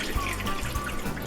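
Water drains and trickles steadily from freshly rinsed honeysuckle flowers being pressed down, a close, continuous liquid flow with a few soft thumps and no talking.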